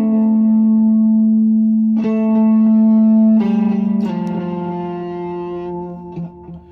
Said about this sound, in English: now at the end of the song, we have a riff that sounds like